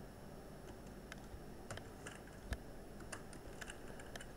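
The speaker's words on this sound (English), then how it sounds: "I'm just gonna type them here" Code being typed on a computer keyboard, sparse quiet clicks scattered unevenly over a constant background hiss, with one sharper keystroke standing out near the middle.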